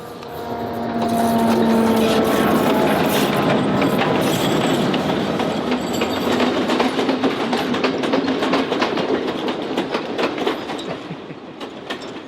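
A train on a Sri Lankan mountain line climbs toward a summit 6,226 feet above sea level, producing a loud, continuous rumble with steady clickety-clack from the wheels and faint metallic squeals.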